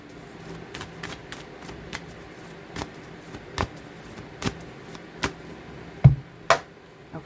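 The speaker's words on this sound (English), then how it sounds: "Let's get a good shuffle here." Soft riffling and tapping of tarot cards being shuffled by hand, with brief clicks and a few sharper snaps near the end, close and quiet.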